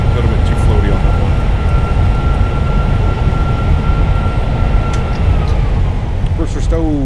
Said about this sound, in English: Nose down gently, reversers out.